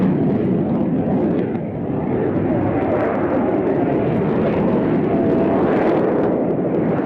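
Royal Netherlands Air Force F-16 fighter jet flying a display, a loud sustained roaring jet rumble that swells and surges steadily throughout, heard from a distance.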